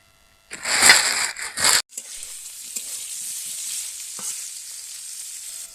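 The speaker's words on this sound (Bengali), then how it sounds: "আমি কড়াইতে আলুগুলোকে প্রথমে ভেজে নেব" Potatoes frying in oil in a wok: a few loud clattering drops of the pieces into the pan give way to a steady close sizzle with faint occasional stirring clicks.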